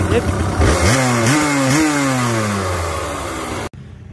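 A kick-started trail dirt bike engine revs in rising, wavering bursts, loud and close, then cuts off abruptly near the end.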